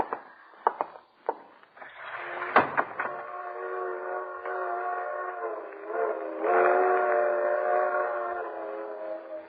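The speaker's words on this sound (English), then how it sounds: "Freight train." A freight train heard as a radio-drama effect: a few clanking knocks at first, then a long sustained horn blast that holds and swells louder toward the end, alone with no talk.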